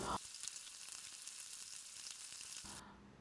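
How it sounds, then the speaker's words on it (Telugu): Onions fry in hot oil in a pan, a faint, steady sizzle with a soft hiss, briefly interrupted by stirring sounds at the start and end. "మధ్య మధ్యలో తిప్పుతూ ఆనియన్స్ని బాగా ఫ్రై చేసుకోవాలి"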